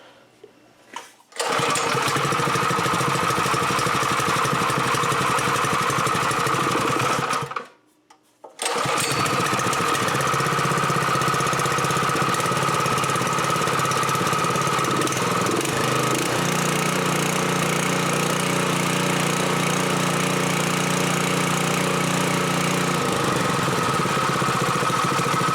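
A Predator 212 small gasoline engine, set on choke with a little throttle, starts after a brief pull and runs steadily and loudly, with a short pause before it fires again and keeps running.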